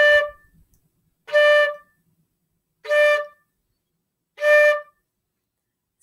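A band instrument sounds four short, separate notes on the same pitch, each followed by a clear rest, at an even, unhurried pace, close and distinct in an otherwise quiet space.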